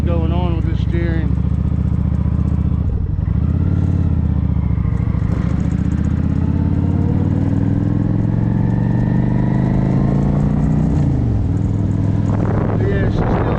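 A motorcycle with a suspected steering problem runs along on a ride, its engine droning steadily and shifting in pitch, with a rider talking over it almost the whole time.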